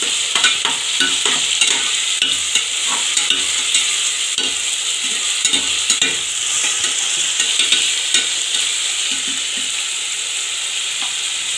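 Beans, carrots and other vegetables for a vegetable biryani sautéed in a pan, a loud, continuous sizzle broken by frequent rhythmic scrapes and clacks of a spoon stirring, close up and with no talking.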